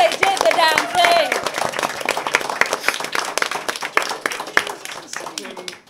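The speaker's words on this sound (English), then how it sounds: "could we have a round of applause for our three GMs who wrote this, who did this?" An audience at a live tabletop role-playing game event bursts into loud, sustained clapping and cheering, with voices shouting through the applause.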